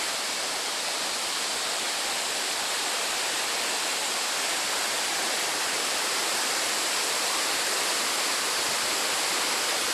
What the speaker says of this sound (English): surely you can hear the water flowing on the microphone here